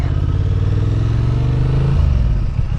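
A Honda Transalp 750 motorcycle engine roars loudly and steadily up close, its pitch climbing under hard throttle before easing slightly at the end.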